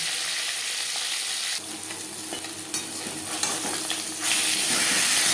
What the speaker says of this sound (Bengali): মাছ ও মাছের মাথা একটা সাইড ভাজা হয়ে গেলে অপর সাইডটা উল্টে দেব